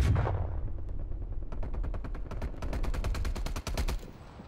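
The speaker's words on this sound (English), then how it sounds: "This girl's shooting everything over here" Rapid bursts of gunfire from a prop hunt video game round set in a snowy map, opening with a heavy blast and then a steady run of sharp, evenly spaced automatic shots, loud and close, with no talk.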